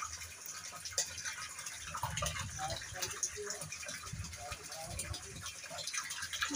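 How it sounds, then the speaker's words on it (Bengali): Water gushes steadily into a water tank, a continuous close rushing flow, with voices talking over it. "আমি টাঙ্কিতে জল ভরছি"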